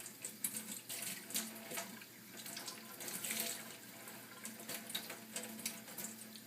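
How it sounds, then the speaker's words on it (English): Steady running tap water rinsing an air purifier filter in a sink, a continuous close splashing hiss with small fluctuations as the filter moves under the stream, no voices. "and I'm just going to rinse it."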